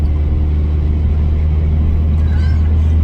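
A turbocharged Mazdaspeed engine held around 3,000 RPM at quarter throttle on a wet, cold road, giving a steady loud low drone with little rise in pitch.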